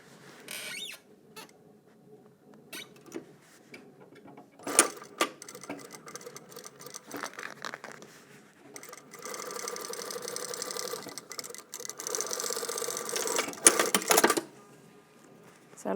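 A sewing machine stitches the crotch seam of a pair of trousers, starting with scattered clicks and handling noises, then running in longer whirring stretches that rise and stop, heard up close.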